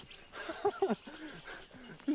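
A dog lets out a few short, yelping barks and whines at moderate distance in a tense police drama scene, with a little background voice in between.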